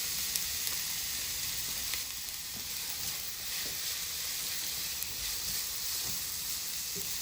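Chopped carrots frying in a pan, a steady, even sizzle and hiss close by that continues unbroken, with no voices.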